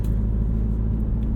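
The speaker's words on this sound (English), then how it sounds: "The exhaust is fantastic." A modified Ford Performance Focus RS, driven at night, gives off a deep, steady exhaust rumble, loud and close, holding one even low drone throughout, with no voices.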